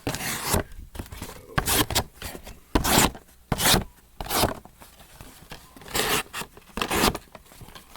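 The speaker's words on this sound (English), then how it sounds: "I'm just slicing cardboard, just kind of using the blade a little bit." Spyderco Manix 2 folding knife blade slicing through two layers of cardboard, giving a series of short, sharp rasping cuts at an uneven rhythm, close and fairly loud with quiet gaps between strokes.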